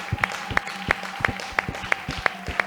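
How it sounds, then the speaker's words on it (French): A church congregation claps in a steady, regular rhythm for the Lord during a service, sharp evenly spaced claps about three per second with a sustained tone and faint voices beneath. "Acclamez pour le Seigneur"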